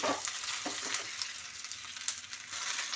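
Ginger, garlic, cumin and coriander sizzle and crackle in a hot pan while being stirred, a loud steady fry with scattered sharper pops and scraping, and no voices over it.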